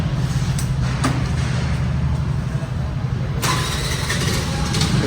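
A vehicle engine starts and settles into a steady, loud low rumble close by, with a few brief clicks and rattles over it.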